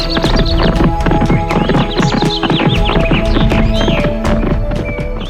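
Hooves clip-clop in a quick, steady rhythm as a horse gallops uphill in an animated story, loud and close, with a neigh over a low humming musical background.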